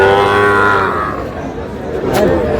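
Young Sahiwal bull calves moo loudly at a busy cattle market, one long drawn-out call up close with faint crowd chatter behind.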